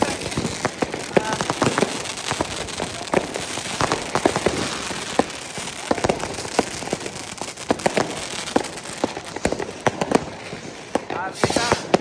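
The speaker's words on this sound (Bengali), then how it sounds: "হ্যাঁ, এই আতশবাজি" New Year fireworks exploding over a riverside night party in Germany, a continuous string of sharp bangs and crackles, some close and some distant, with people's voices talking underneath.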